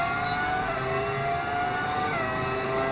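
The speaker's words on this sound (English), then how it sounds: "It's actually a V10 mod. But we got new engine regulations here in the Season 3, so with that came some new sounds." A V10-modded Formula 1 car engine in a racing video game drones steadily at high revs, a dense continuous whine with shifting harmonic tones and no talk.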